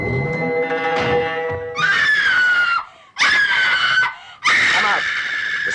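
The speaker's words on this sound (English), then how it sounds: "she immediately goes nuts, screaming her head off" A woman in the 1971 horror film Blood on Satan's Claw screams hysterically in three long, loud shrieks with brief gaps, following a stretch of strained wailing.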